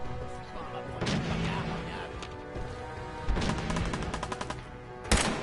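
Gunfire in the video game Fallout, several bursts of rapid shots and heavy bangs in a busy mix, with someone talking over parts of it.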